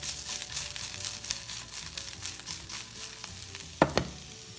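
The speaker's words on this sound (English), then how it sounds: "So instead of having to use a spatula, you can do all your stirring with the pan itself" Food fries in plenty of oil in a non-stick pan that is swirled instead of stirred with a spatula, giving a loud pulsing sizzle with sloshing surges and two sharp knocks near the end.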